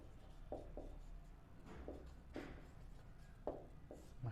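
Pen or chalk writing the word mind during a science class, a few faint scratchy strokes and light taps spaced irregularly, quiet with no speech.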